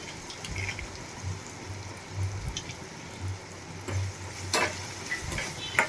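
Ridge gourd with turmeric is stirred in hot oil in a pan, giving a soft, steady sizzle with scattered spatula scrapes and clicks close by.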